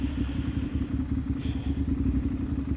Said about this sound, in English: Keeping the bike running nice and slow and smooth like that.